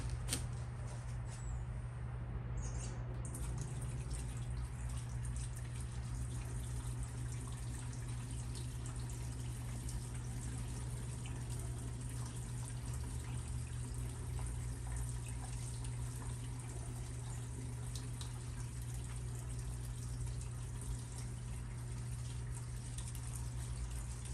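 Gasoline pours from a gallon can into the fuel tank of a John Deere X320 lawn tractor, giving a constant, close, rushing trickle that goes on unbroken for the whole stretch, with no talking.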